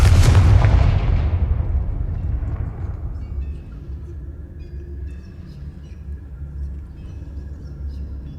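A Confringo fire blast spell cast in Hogwarts Legacy bursts loudly with a sharp, crackling impact, then fades over a few seconds into a low, steady rumble with faint ringing tones behind it.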